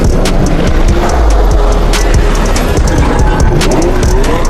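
A Porsche Panamera Turbo S sports car drives hard with its engine roaring and tires squealing, a loud, dense, continuous rush of motor and skidding noise.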